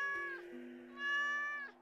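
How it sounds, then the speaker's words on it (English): Cartoon-like cats meowing during an event scene in the Stardew Valley video game: two drawn-out, melodic meows in quick succession, clear and close with nothing behind them. "I have an event with cats. Multiple cats."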